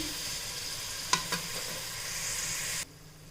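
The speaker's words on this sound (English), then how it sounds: "I'm going to fry it a little till the onions turn brown" Onions frying in a pan with a little turmeric give a steady, fairly quiet sizzle, broken by two short scraping stir clicks near the middle, before the sound cuts off abruptly at the end.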